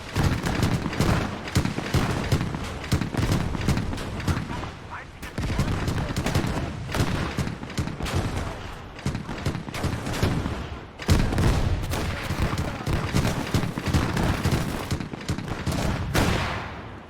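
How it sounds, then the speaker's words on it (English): Loud, dense battle soundscape from the WWII game Gates of Hell, German Operation Typhoon 1941: rolling mortar blasts and gunfire crackle continuously for the whole stretch, with heavy impacts clustering and swelling in bursts. "Wow, mortar silencing that gun."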